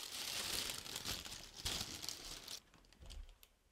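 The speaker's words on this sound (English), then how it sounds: "tissue paper, super quick, another generic Yeezy thing, just plain" Tissue paper wrapped around Yeezy slides crinkles and rustles loudly up close while being unwrapped, then drops to a few softer scattered rustles.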